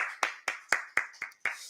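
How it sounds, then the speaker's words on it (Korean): A church congregation claps in a Sunday worship service, giving a quick run of about seven crisp, evenly spaced claps that ring out plainly with no talking over them. "우리 하나님께 영광의 박수 올려드리겠습니다"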